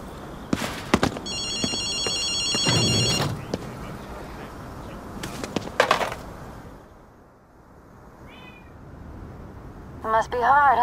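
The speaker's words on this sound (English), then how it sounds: "Do you hear a phone? That's definitely odd." A payphone rings in the Ghostwire Tokyo video game, giving a brief electronic trilling burst among footsteps, cat meows and other game sounds.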